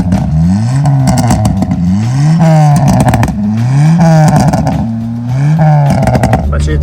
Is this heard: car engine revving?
yes